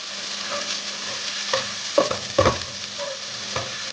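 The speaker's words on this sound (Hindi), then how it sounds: "एक बड़ा प्याज जिसकी मैंने स्लाइस में कटिंग की है वो शामिल कर दें और प्याज को फ्राई कर लें" One large sliced onion frying in hot oil, giving a continuous sizzle with scattered spoon clinks and stirring scrapes, close and moderately loud.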